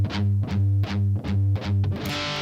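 Heavily distorted electric guitar chugs a low, palm-muted G5 power-chord riff in a tight repeating rhythm, up close and loud with nothing else playing.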